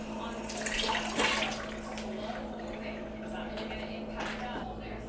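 Tap water runs steadily into a sink while peeled butternut squash is rinsed, a faint, continuous splashing wash with small surges.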